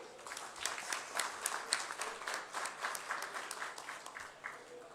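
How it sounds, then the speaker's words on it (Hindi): A crowd at an election get-together claps for a slate of candidates and their chairman, a dense, steady burst of many hands that holds evenly for several seconds without letting up. "आप सबकी भरपूर तालियां हमारे तमाम कैंडिडेट और चेयरमैन के लिए।"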